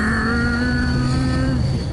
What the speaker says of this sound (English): Sounds like the Batmobile, this car.